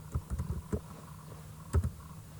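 Keys tap on a computer keyboard in short irregular bursts, a few quick clicks, a pause, then another pair of taps, close and fairly quiet.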